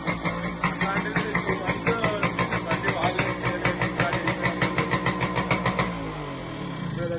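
A Yamaha RX two-stroke motorcycle engine runs after a kick start, a loud, close, steady rapid throb with regular pulses that winds down and fades out near the end.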